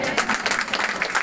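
A church congregation gives a short burst of dense applause, fairly close and loud, with a voice talking over the clapping.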